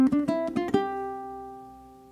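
A ukulele plays the first bar of the bluegrass fiddle tune Whiskey Before Breakfast: a quick run of about six bright plucked notes, then a final note left to ring and fade, heard alone and close.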